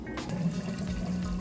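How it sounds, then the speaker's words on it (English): A Maytag Bravos XL washer drains water at the shift from wash to rinse, a steady close rushing gurgle of flowing water. "it's draining that water out nice and fast"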